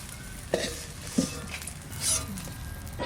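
Prawns fry in hot oil in a wok with a steady nearby sizzle, and a few sharp metal clinks and scrapes of a utensil sound as the fried prawns are taken out.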